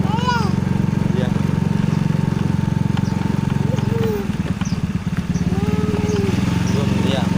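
A small motorcycle engine drones steadily and close by as a young child rides along, with a brief dip in the engine note midway and faint voices over the running motor.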